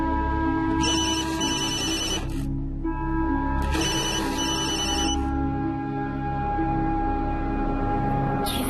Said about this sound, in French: Toi, Michael, réponds au téléphone.